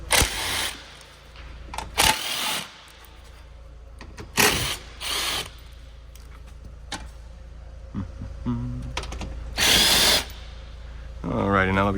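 A power drill with a 10mm socket removes the bolts from the skid plate of a Dodge Challenger SRT8. It gives several short, loud whirring bursts separated by pauses, with faint clinks and handling noise in between.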